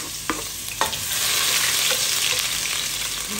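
Ginger sautéing in a pan for laing, with a few spatula knocks at the start, then a steady close sizzle that holds to the end.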